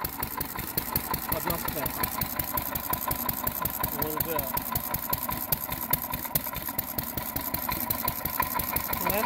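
A Massey Harris engine runs at its first start, chugging in a fast, steady rhythm with a slightly knocking beat throughout, close and continuous, while someone talks briefly over it.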